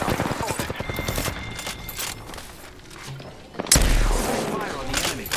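Gunfire in the shooter game Apex Legends, bursts of rapid shots early, then a sharp loud blast followed by more firing and explosions, with a voice talking over the action.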